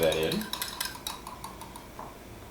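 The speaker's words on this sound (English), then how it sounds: "we'll just kind of stir that in." Red pepper flakes are stirred into a sauce for eggs Benedict with a metal spoon, making a few light clinks and scrapes against the pan, quiet and close.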